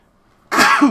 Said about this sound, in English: I'm going to sneeze again.